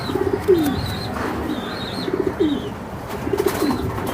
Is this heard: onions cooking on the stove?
no